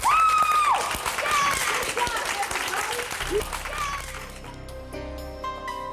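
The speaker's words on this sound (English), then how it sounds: "give yourselves a round of applause" A group of singing contestants at a Hollywood-week audition applauds themselves, with dense, sustained clapping and a high sung or whistled tone above it that fades toward the end as music comes in.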